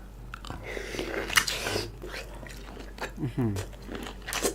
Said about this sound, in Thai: ดูตอนกินกุ้งนี่